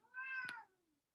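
A cat gives a single clear meow, rising then trailing off over about a second, close and fairly quiet against a silent background.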